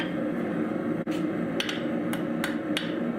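Hammer blows on a small steel keychain being forged, knocking the corners off and rounding it: a sharp strike followed by several more metallic hits at irregular intervals, close and clear over a low steady background hum.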